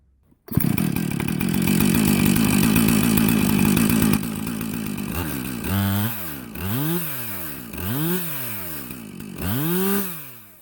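A chainsaw, with a bar that was recently bent where it slides in, starts up and holds a loud steady roar, then is revved up and down several times in rising and falling surges.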